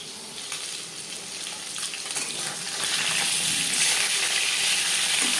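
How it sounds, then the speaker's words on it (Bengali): Chitol fish sizzles in hot oil in a pan, a steady crackling hiss that grows slightly louder and denser toward the end, with no talking. "ভাজা হয়ে গেলে অপর সাইডটা উল্টে দেবো।"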